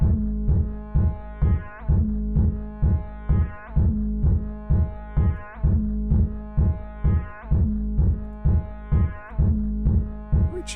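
Synth sample played with no LFO scan motion, a low pulsing tone with steady rhythmic repeated notes and a static harmonic texture, moderately loud and alone.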